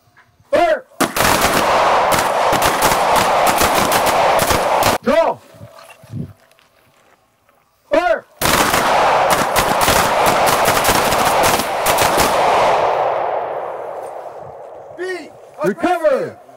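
Pistols fire rapidly on a range during a close retention shooting drill. Two long, dense volleys of shots are separated by a brief lull, and loud shouted commands come between the bursts.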